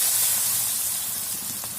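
Chopped onions hit hot oil seasoned with cinnamon and turmeric, giving a brief, steady steam-like hiss that stays close and even throughout.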